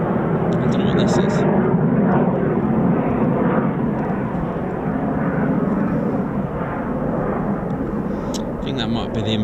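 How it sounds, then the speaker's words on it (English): Embraer Phenom jet flying over RAF Coningsby at night, a loud continuous broadband roar close by that holds steady throughout, with a person talking over it. "there was a Embraer from Cranwell floating around, so I'm wondering if that's it."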